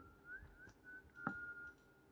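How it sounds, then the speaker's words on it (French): A faint, thin whistle from a man in Minecraft drifts in brief rising and held notes over a quiet background, with a small click partway through. "Il y a un mec qui siffle."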